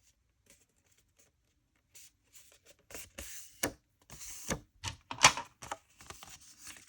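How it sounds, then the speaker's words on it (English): Paper being scored for a candy box junk journal, a run of quick dry scraping and tapping strokes that start faint and grow busier and louder. "we're gonna slide the paper down to 4 1/4, and we're gonna score again"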